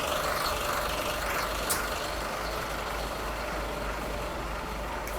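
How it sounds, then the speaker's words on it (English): A truck rumbles by outdoors as a steady low engine drone, fairly distant and even, with no voices over it. "and now there's a truck."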